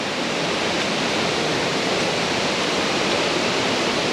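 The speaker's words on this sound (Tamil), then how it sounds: "வாட்டர் ஃபால்ஸ் வந்தாச்சு." Continuous, loud rushing water at Maranatty waterfall, a steady broadband roar heard close up with no let-up and no voices.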